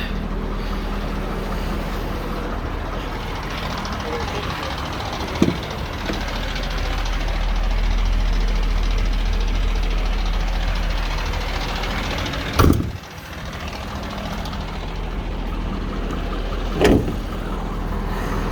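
A 2011 AT200 bucket truck with a 6.7 diesel engine idles under the open hood with a steady, close, low hum, broken by a few faint clunks.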